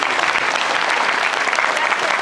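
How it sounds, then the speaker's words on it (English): A live audience at a magic show gives a steady burst of polite applause, dense and even throughout, with some faint crowd voices mixed in. "please put your hands together in a ripple of polite applause"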